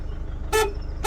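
A single short honk from the horn of a 2008 Citroen Berlingo diesel van sounds over a low idling hum, loud and close, followed by the start of a second toot.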